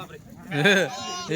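A single large, pregnant Kathiawari ewe lets out one loud, close, quavering bleat lasting under a second.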